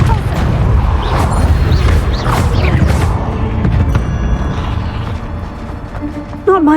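A Confringo fire spell bursts in the video game Hogwarts Legacy, producing loud booming and crackling blast effects with mechanical clatter that fade over several seconds, with some voice heard.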